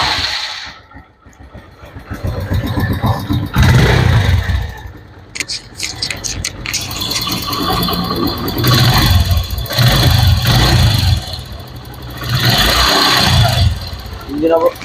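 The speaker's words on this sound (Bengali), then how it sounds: "ইঞ্জিনের সাউন্ডটা আগে আপনারা শুনুন যে কি অবস্থা" A TVS Metro Plus motorcycle engine, still cold and with a fault that produces a ticking noise, runs and revs unevenly at close range, with someone talking over it at times.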